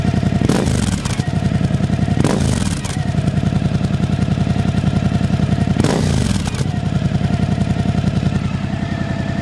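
A Suzuki V-Strom 1050 XT motorcycle engine runs loud and steady up close, revving sharply three times with a rising roar before dropping back to a rough idle.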